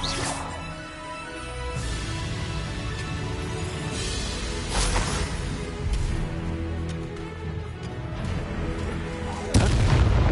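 Confringo fire spell blasts in the Hogwarts Legacy video game: several heavy booming explosions strike at intervals over a dense, rumbling game soundscape, with the loudest impact near the end.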